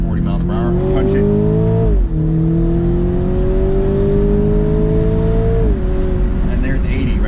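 A 2019 BMW Z4 accelerates hard in second gear, its engine note climbing steadily in pitch with a brief dip at a shift, loud and close throughout, with a steady road roar underneath.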